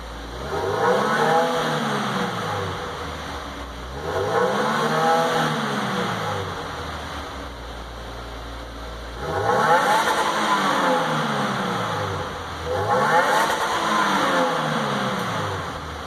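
Four revs from a 2015 Subaru WRX on its stock exhaust, each climbing toward redline and then dropping back, with brief idle between them. The engine is close and loud, and no one speaks.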